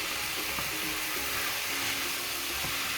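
Vegetables, tomatoes and green peas sauté in a hot pan for veg biryani, a steady close sizzle with a broad frying hiss and occasional stirring scrapes, no voices.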